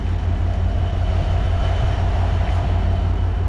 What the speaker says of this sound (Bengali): আর যে প্রবেশ করছে বাংলাবন্ধা এক্সপ্রেস ট্রেন